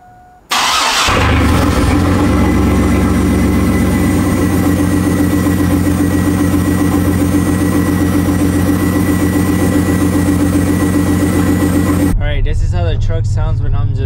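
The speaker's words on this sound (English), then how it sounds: "let you guys hear how the truck sounds now that it only has a downpipe" Chevrolet S10 pickup truck with only a downpipe fired up from cold: a brief crank, then a loud, steady, rumbling idle holding near for about eleven seconds before cutting off, with a voice speaking briefly at the end.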